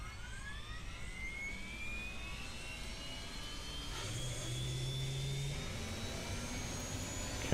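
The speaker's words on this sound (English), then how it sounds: "Engine starting." An Eclipse 550 jet engine spools up in a flight simulator game, a steady whining roar with rising tonal whine lines that swell gradually louder over several seconds, with no talking.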